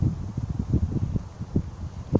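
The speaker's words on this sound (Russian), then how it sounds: "Сильный ветер. Не добивает." Strong wind gusts outdoors, buffeting the microphone with low rumbling bursts that rise and fall unevenly throughout, with no talking.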